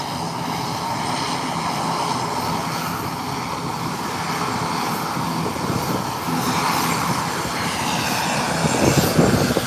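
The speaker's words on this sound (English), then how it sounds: "Here comes this Airbus 390. Up and away. Smooth takeoff." An Airbus airliner takes off from Howard Hamilton International Airport, a broad, steady jet engine roar that swells slightly toward the end, heard from a distance without speech.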